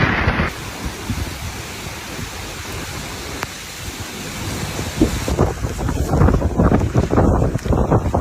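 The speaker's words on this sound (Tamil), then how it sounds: "காத்து வந்து பாம்பன் பாலத்தில் அடிச்சு கடுமையான காத்து அடிச்சுக்கிட்டு" Strong wind buffets the microphone at Pamban bridge by the sea, a loud continuous roar with gusting low rumble and surf-like wash throughout, no voices.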